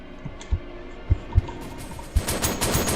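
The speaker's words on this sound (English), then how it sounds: "Everyone's getting shot up." Gunfire in a video game set inside an Ikea store, starting as a few separate heavy shots and then breaking into a loud, dense burst of rapid automatic fire, close and without talk.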